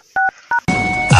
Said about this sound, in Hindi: अब तो एक ही सहारा है, सीआईडी को फोन मिलाना।